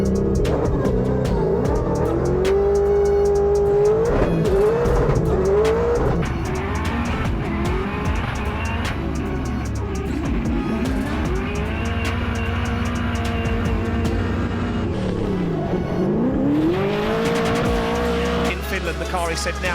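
Nissan 400Z drift car at a Drift Masters practice and qualifying round in Riga, Latvia, its engine revving loud and continuous with shifting pitch and tires squealing, under steady commentary.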